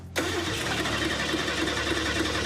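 A 1974 Mercury Comet V8 catches and starts, then runs at a steady rough idle: an abrupt start followed by a continuous loud engine drone with a faint knock and no voices.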